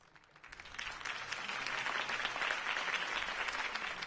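Crowd applause follows a campaign speech in the Batman Telltale video game, a steady wash of many hands clapping that builds quickly and holds at a moderate level, heard at some distance.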